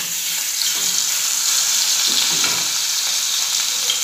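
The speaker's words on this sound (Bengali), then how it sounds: "ঝাল মাছটা ভাজা বসিয়ে দিয়েছি" Spicy fish coated in mustard paste, ginger, chilli and turmeric frying in a pan, giving a steady, close sizzle and hiss of hot oil throughout, with faint clatter and no talking.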